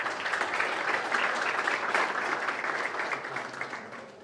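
Audience applause at a youth rifle shooting match, steady dense clapping across the hall that tapers slightly toward the end, with little talk.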